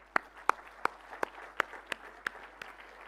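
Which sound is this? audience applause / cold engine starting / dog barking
audience applause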